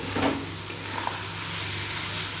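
Fried chicken pieces go into a pan with onion and mustard oil and are sautéed with spices, producing a loud, close, hissing sizzle with a quick burst of frying at the start and no talking.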